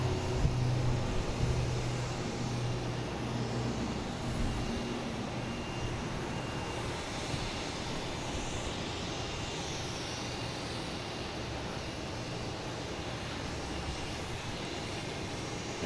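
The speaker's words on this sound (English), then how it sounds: "Next taking off will be Porter," Porter airliner taking off at Boston Logan International Airport, a steady broadband jet roar held at a constant level for the whole stretch, with no talking over it.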